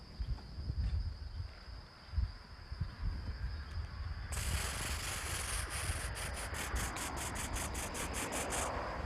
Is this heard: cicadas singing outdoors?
yes